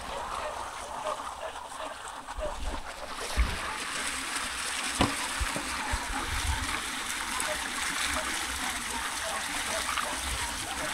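Water drains out of a fishpond through an opened barrier, a steady broadband rush and trickle with occasional splashes and low thumps, fairly close and continuous throughout, with no talk over it.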